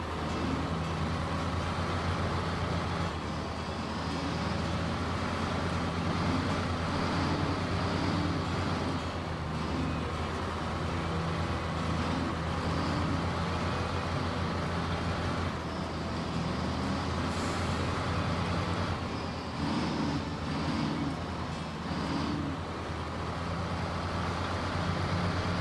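TranStar truck engine in SnowRunner idling and running with a steady low drone and rumble, continuous and moderately loud throughout with no talk.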